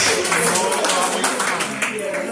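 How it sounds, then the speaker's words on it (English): A group audience claps along in short, continuous bursts, fairly close and lively, with talk running over the clapping. "Clap it up if you love going on your vacation."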